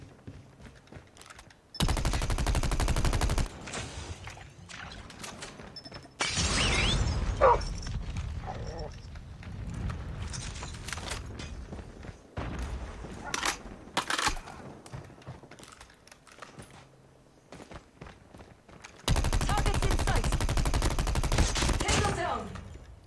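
Bursts of rapid gunfire come in several loud volleys separated by quieter stretches with clicks and scattered shots, from Call of Duty: Mobile game audio.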